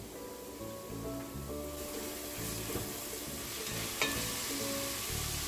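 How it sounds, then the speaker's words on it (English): Chopped onion and carrot stir-fry in a pan for potato stew, a continuous quiet sizzle broken by occasional stirring scrapes and a brief sharp tap near the end. "And I'm going to stir fry them until the onion is translucent."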